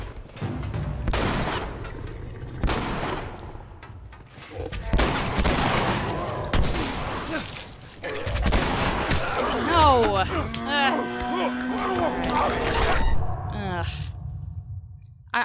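Gunshots in The Last of Us video game, several sharp separate blasts spaced across the action, mixed with in-game voices and a player talking between shots.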